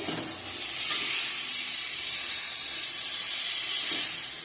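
Karela and potol slices frying in oil in a home kitchen pan, giving a loud, continuous hissing sizzle that holds steady throughout without breaks.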